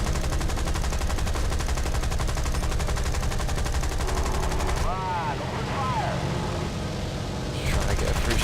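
Automatic gunfire in a War Thunder battle, dense and continuous bursts throughout with aircraft engine drone underneath, a brief lull near the end before firing resumes.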